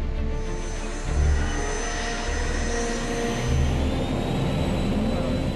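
Learjet jet engines roar as the aircraft accelerates for its first takeoff, a loud continuous whine and rumble that swells slightly in waves.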